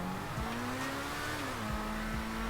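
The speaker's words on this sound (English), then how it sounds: "if you were trying to just launch it, that's full throttle and it just spun." A Progen Emerus race car in GTA 5 launches at full throttle with wheelspin, its engine holding a high, steady whine that rises and dips under a layer of tire noise, loud and close.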